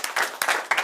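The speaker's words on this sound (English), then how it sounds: "Give her a round of applause." Audience applause at a live stage show, with bursts of clapping rising and falling in three quick waves, moderately loud and fairly close.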